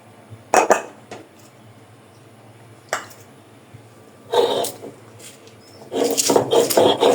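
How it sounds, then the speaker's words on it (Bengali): Fried garlic, onion and green chillies are ground into a paste, heard as intermittent gritty rubbing and scraping bursts, short at first and then longer and steadier, close by with quiet gaps between. "প্রথমে আমি রসুন পেঁয়াজ কাঁচামরিচ যেগুলা তেলে ভাইজে নিছিলাম ওগুলা বেটে নিব প্রথমে"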